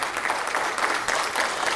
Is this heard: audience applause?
yes